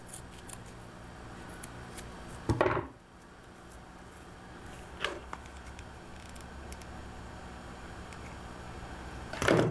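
Scissors trimming ribbon for a handmade headband, a couple of sharp snips spaced several seconds apart over quiet room tone, close and without talk.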